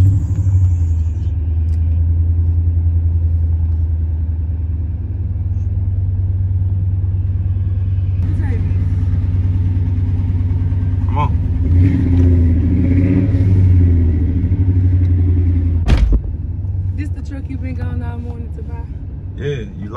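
A pickup truck's engine rumbles steadily and loudly at close range, rising into throaty revs partway through, while people talk over it.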